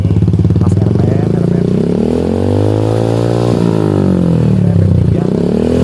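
A Honda Supra X 125 motorcycle fitted with a racing exhaust silencer revs up and down close by, its deep, bassy engine note swelling and dipping in steady sweeps over about six seconds.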